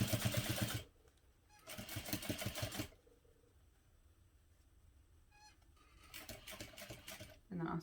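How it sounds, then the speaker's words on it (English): A sewing machine stitches a tote bag seam along a handle facing at a 1/8 inch allowance, running in short loud bursts with quiet pauses between, close up. "I'm sewing only along the portion where the handle facing is attached."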